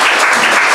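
An audience at a fan Stammtisch claps in a brief, dense burst of applause, loud and close, filling the whole moment without any talk.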